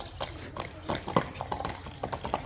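A horse runs with rapid, steady hoofbeats against a continuous noisy outdoor background, the clopping moderately close, with no clear talking.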